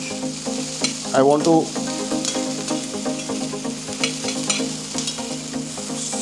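Onions fry and are stirred in a pan for home-made mutton paya, with a loud close sizzle and scraping stirs under a brief spoken phrase and background music.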